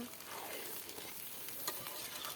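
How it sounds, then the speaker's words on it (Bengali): Rice frying in a pan for a large home party meal, a steady faint sizzle with continuous stirring and scraping, heard alone without talking. "এই যে ভাত ভাজছি"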